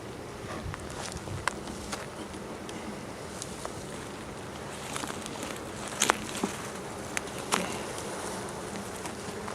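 Honey bees droning around comb frames in a rescued colony, a steady close swarm hum with scattered faint clicks and taps from frames being handled.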